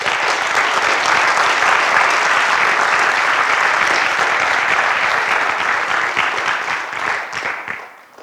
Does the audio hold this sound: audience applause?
yes